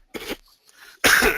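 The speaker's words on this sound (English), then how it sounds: "sorry, I said I was going to be coughing." A man gives two separate coughs close to the microphone, a short one followed by a pause and then a louder, harsher one.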